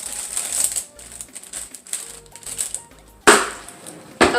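Dull scissors struggle to cut open a stubborn package in a home kitchen, giving a run of small crinkly snips and clicks followed by two sharper, louder cuts close by.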